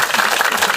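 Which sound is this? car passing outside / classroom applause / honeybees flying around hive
classroom applause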